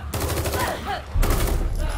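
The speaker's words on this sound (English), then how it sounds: "Again, it's the gunfire." Rapid gunfire rattles continuously in the video game The Evil Within 2, dense bursts of shots with a brief lull before a heavier volley resumes, loud and close.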